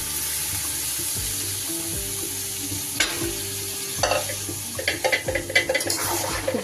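About 350 grams of pressure-boiled peas are stirred into a frying mixture for matar paneer ghugni, with a steady close sizzle and scraping spoon strokes that grow busier toward the end, no talking.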